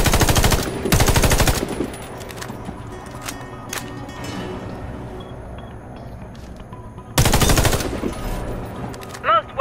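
Automatic gunfire in the Warface shooter game at a target range: two loud, rapid bursts at the start and one near the end, with scattered single shots and quieter mechanical clicks in between.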